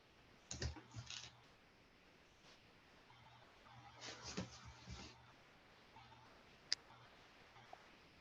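Calculator keys are pressed in short bursts of soft taps, separated by quiet gaps, while solving an algebra problem. A couple of sharper isolated clicks come near the end, and the whole sequence is faint and close.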